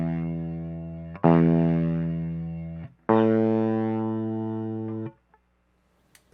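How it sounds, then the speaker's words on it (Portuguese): Electric guitar played through a Klon Centaur clone overdrive pedal built with fake components, treble at maximum, giving a raspy crossover distortion; two long sustained strummed notes decaying one after another, loud and close with no talk. "É a distorção crossover que está atuando aqui, causando esse defeito"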